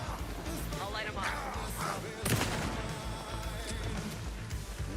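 Gunfire in the video game Alan Wake 2, a dense stretch of shots blending into loud game noise, with one sharper blast near the middle and a voice talking over it.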